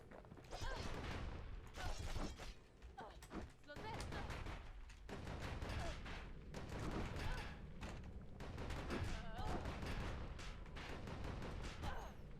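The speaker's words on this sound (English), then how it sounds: "This one fires a lot of bullets." Rapid gunfire from a many-bullet weapon in the action game Bastion, dense bursts of shots and impacts filling the whole stretch, loud and close, with music and a narrator's voice woven underneath.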